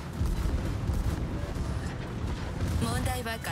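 The battleship Nagato's secondary guns fire in a naval combat video game: a dense stretch of rumbling, overlapping booms and cannon blasts, loud and continuous, with a few sharper reports near the end.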